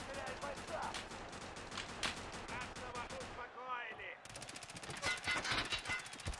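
Rapid automatic gunfire in the game Escape from Tarkov Arena rattles in dense bursts, pausing briefly before resuming louder and faster, with a voice talking over the shooting.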